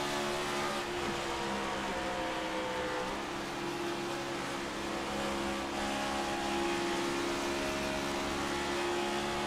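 A NASCAR NextGen Cup race car engine in an iRacing video game at Auto Club Speedway drones steadily, its pitch rising and dipping as the throttle is eased on and off through turns, with no voices.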